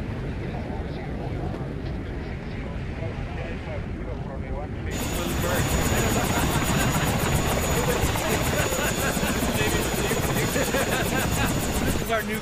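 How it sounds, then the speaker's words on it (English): A cargo aircraft engine drones loud and steady, a higher whine joining partway through and continuing to the end; a voice talks underneath. "This is our new cargo aircraft."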